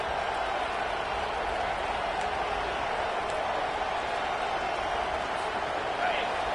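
A steady wash of stadium crowd noise fills a college football game, constant and broad, with commentary running over it throughout.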